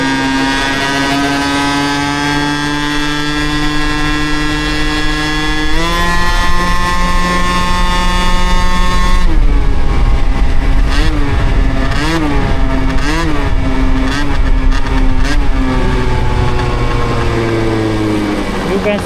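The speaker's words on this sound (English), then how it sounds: "I feel bad when I have this loud scooter." An Aprilia SR scooter fitted with an Athena 70cc kit and a Hebo exhaust revs loudly and close by. The engine note holds steady, then climbs, and finishes with a rapid series of sharp throttle blips.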